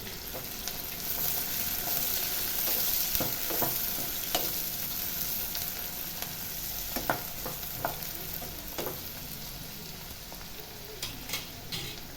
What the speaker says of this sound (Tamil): ஒரு பெரிய வெங்காயம் பொடிசாக கட் பண்ணி அதை ஆட் பண்ணிக்கலாம். கொஞ்சம் ஃப்ரை பண்ணலாம்.